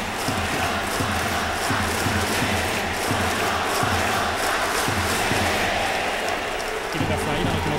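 A packed baseball stadium roars as a batter wearing number 3 steps up for the final at-bat of Tatsunami's 2009 retirement game. The crowd noise stays loud and continuous, with rhythmic chanting pulsing through it.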